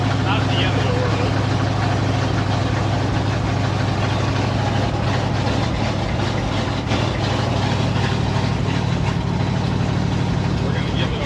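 An International Gasser truck's engine runs steadily at a low, droning idle-like pitch, a continuous rumble with road and wind noise and no clear changes in throttle.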